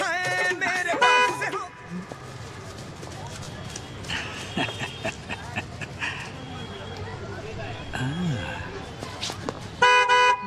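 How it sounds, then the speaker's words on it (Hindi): A car horn toots in short bursts on a road, sharp and near, with people talking around it and other traffic noise in the background. "रोड में गाड़ी तो दिख नहीं रही, खामखा हॉर्न क्यों बजा रहे हो?"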